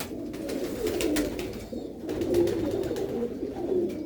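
Pigeons coo repeatedly close by in a rooftop loft, low throaty rolling calls coming in overlapping bursts with faint rustling and taps between them.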